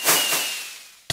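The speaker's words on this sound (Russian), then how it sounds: "В помещении фейерверки запускать" Minecraft fireworks launched inside a house: a hissing whoosh with a thin rising whistle that fades, ending in a couple of quick sharp pops.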